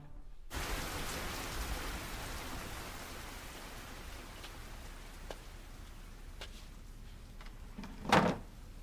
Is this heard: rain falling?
yes